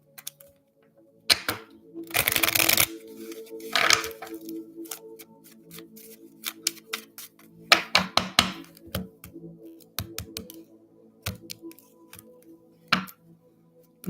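Tarot cards are shuffled by hand in repeated bursts of riffling and slapping, close and crisp, separated by quiet pauses with scattered clicks and taps.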